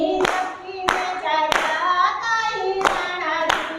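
Hands clap in a steady beat during a Gujarati kirtan, the sharp claps loud and close over sustained devotional singing.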